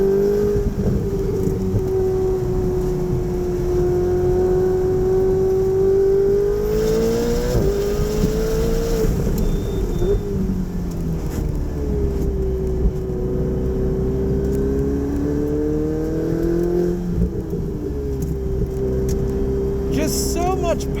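A tuned 2018 Gintani Ferrari 488 Spyder accelerates hard around a race track at Arizona Motorsport, its engine droning loud and steady with rising pitch sweeps as it pulls through the gears, heard from close up over the full stretch.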